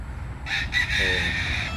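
Chickens cluck and call from nearby, a hen's voice rising over steady barnyard background noise.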